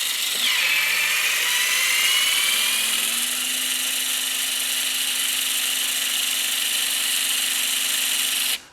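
A HYTORC centerlock wheel gun loosening a wheel nut whines steadily at a high pitch, with a lower motor tone rising partway in and holding until it cuts off abruptly.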